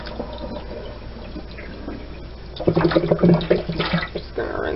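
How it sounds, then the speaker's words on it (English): Yarn dyed with food colouring is rinsed under running water, a steady splashing flow that grows louder partway through, heard close alongside some talking. "Just gonna rinse it a little bit more just to make sure I've gotten all the soap out."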